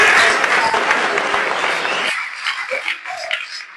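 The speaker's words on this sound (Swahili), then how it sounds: "na mpige makofi kwa Chama cha Mapinduzi" A crowd at a Tanzanian political gathering claps for the Chama cha Mapinduzi party in a loud, dense burst of applause that drops off sharply after about two seconds, leaving faint scattered sounds.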